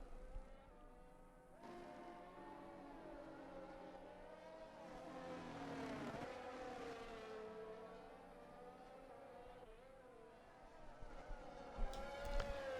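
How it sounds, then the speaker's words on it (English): Several F1 cars in a racing video game crawl along behind a Mercedes safety car awaiting a restart, a layered engine drone with tonal whine and gentle pitch swells, a revving rise near the end, no speech. "you hear me commentating over F1 cars driving really slow behind a Mercedes waiting for a safety car restart"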